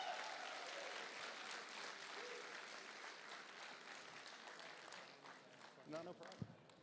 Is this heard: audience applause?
yes